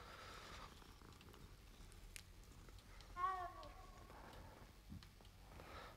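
A cat purrs softly and steadily in the Hogwarts Legacy video game, giving one brief chirping call about midway over a quiet hum.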